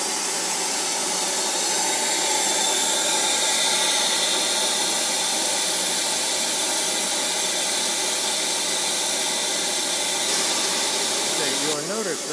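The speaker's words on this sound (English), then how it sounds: "Now we will turn on the unit on manually." An FRP dispenser unit runs with its chain conveyor and air system, giving a steady, loud broadband hiss and whir that holds unchanged throughout, like an air blower or vacuum line.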